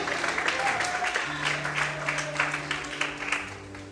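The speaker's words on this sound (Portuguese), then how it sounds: "glorifique o Senhor, aplauda Ele nesta noite" A church congregation claps together in a steady wash of applause, with sustained low tones and voices faintly beneath.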